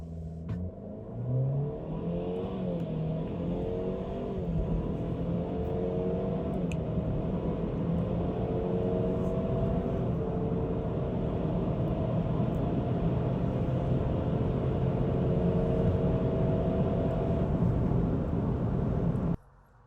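A Cadillac car engine drones steadily and loudly in sport mode with traction control off, with rising harmonic tones as it accelerates, then cuts off abruptly at the end.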